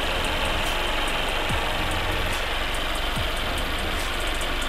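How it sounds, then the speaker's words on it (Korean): A Mercedes-Benz E300 4MATIC engine idles steadily and loudly, a constant mechanical hum with faint ticking, and no voices. "엔진 소리 일정합니다."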